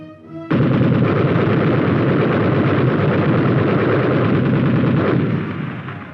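US Army tank 90mm guns firing in 1950s film footage, a sudden loud blast opening into a sustained roaring barrage of heavy gunfire that fades slightly at the end.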